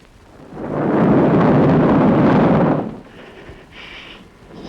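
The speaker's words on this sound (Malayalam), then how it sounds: "ഇതുപോലെ ഇടിയും മിന്നലും ഉണ്ടായിരുന്ന ഒരു രാത്രിയിലാണ്" Thunder rolls through a Malayalam film scene on a stormy night: a loud, deep rumbling burst swells up, holds for about two seconds, then fades into a quieter background.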